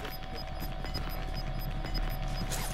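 Gunfire in the video game Call of Duty: Modern Warfare comes as a steady, dense stream of shots over constant background noise and lasts the whole short stretch without talk.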